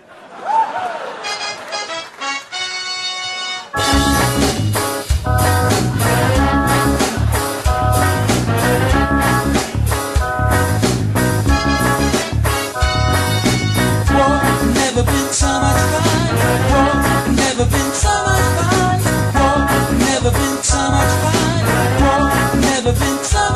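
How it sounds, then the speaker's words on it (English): Chiptune music from the Amiga game Cannon Fodder, played on an arcade machine, opens with a short sparse intro before a loud, dense, steady theme of pulsing bass and melody that runs continuously throughout. "And when John plays the arcade, it sounds something like this"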